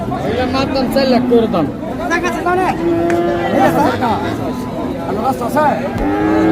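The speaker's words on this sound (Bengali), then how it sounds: "এই জোড়া বকনা বাছুর" Cattle and heifer calves moo repeatedly amid loud crowd chatter and people talking at a busy livestock market, Hazratpur cattle market, Bangladesh.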